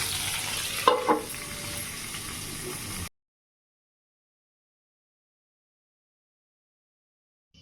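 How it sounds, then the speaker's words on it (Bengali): Eggplant slices frying in oil in a pan give a soft, steady sizzle with a couple of small pops near the start, then the sound cuts off abruptly into silence. "তো এখন এই যে বেগুন ভাজাটা চাপাবো।"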